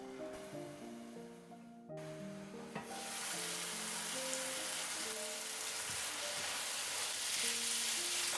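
Mushroom salad ingredients hitting a hot pan with about 50 ml of water, bursting into a loud, steady sizzle and hiss close up after a few seconds of lighter cooking sounds and faint tones, with no talking.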